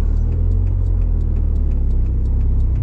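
A Mazda Miata engine drones at low revs while it is driven and the clutch is worked, a steady, close, loud rumble with a faint rhythmic ticking over it and no talk.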